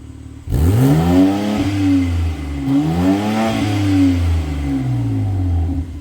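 A 2025 BMW M4 on its stock exhaust starts up and then revs twice, each a smooth rise and fall, before settling into a steady idle, heard close with no talking.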